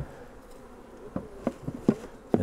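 Honey bees at a hive in an apiary, buzzing in a low steady drone with several louder close passes flying near, no voices heard.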